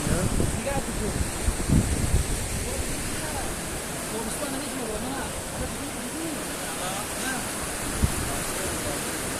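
Broad, steady rush of the Zarafshan river flowing nearby, a continuous roar filling the whole clip with a few faint knocks and rustles within it.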